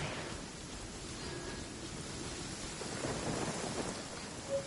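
Steady rain pours in Genshin Impact, with low rumbling thunder rolling underneath throughout and a brief brighter tone near the end.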